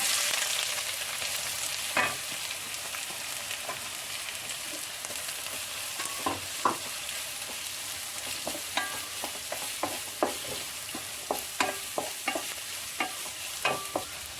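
Onions fry in hot coconut oil with a steady, hissing sizzle, while a utensil clinks against the pan in scattered taps as the food is stirred.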